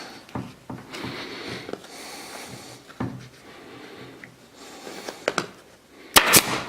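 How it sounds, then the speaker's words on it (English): A staple gun fires into chair upholstery fabric, giving sharp, scattered snaps. A louder, crisp crack comes near the end, and quieter handling rustles of the fabric sit in between. "put another staple right in there."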